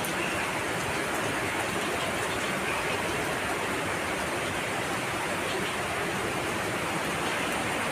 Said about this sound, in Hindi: बड़ी भारी बारिश हो रही है।